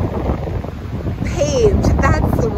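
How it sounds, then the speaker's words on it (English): Gusty wind buffets the microphone in a low, steady roar on a hike in Arizona, while a person talks briefly over it and a high-pitched whistle-like voice rises near the end. "Ah, it's windy!"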